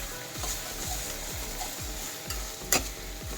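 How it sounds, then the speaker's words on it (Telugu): Spices and rock salt fry in a hot pan with a steady sizzle, while a utensil scrapes and stirs them in a regular rhythm of about two strokes a second, close and clear with no talking. "ఇవన్నీ బాగా వేగాలండి."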